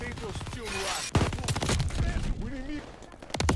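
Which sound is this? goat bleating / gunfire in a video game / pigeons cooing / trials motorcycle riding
gunfire in a video game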